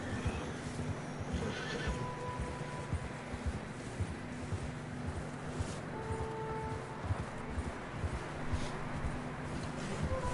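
Horses plodding through snow in a storm in the game Red Dead Redemption 2, a steady soft rhythm of hoof falls under blowing wind with brief neighs and whinnies, moderately close but fairly quiet.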